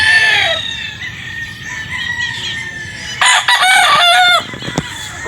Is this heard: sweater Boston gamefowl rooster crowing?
yes